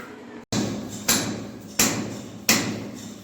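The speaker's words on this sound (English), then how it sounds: "And now here we are trying to chip off extra concrete." A hammer chips excess concrete inside an elevator shaft, four sharp, loud metallic strikes at roughly even intervals, each ringing briefly in the enclosed space.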